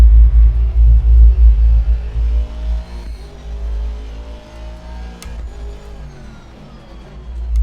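A race car driven at night around Spa in Assetto Corsa Competizione on Xbox Series X, a loud, steady engine drone with deep rumble that eases slightly and then builds again, with no voices.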